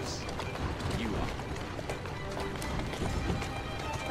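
A horse in the Assassin's Creed Syndicate video game gallops in a steady stream of hoof clops under loud game ambience, with voices talking over it.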